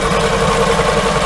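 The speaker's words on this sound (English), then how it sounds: "now I'm just going to sew all the way to the corner" A sewing machine runs steadily while stitching fabric for a beach pillow, giving a close, unbroken motor hum with no pauses.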